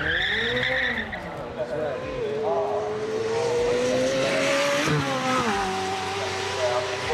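A McLaren Senna supercar with a 4.0 V8 engine drives hard, its engine droning loudly while tires squeal in long sustained screeches, with a voice talking over it.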